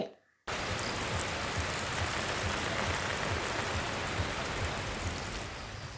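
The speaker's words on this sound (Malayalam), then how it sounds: "വെള്ളം ഭയങ്കരമായിട്ട് വരുന്നുണ്ടല്ലോ" Water rushes in heavily as rain arrives, a loud continuous broadband roar like a torrent or downpour, starting abruptly after a short quiet moment and staying steady.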